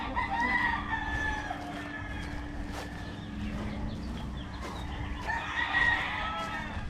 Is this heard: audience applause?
no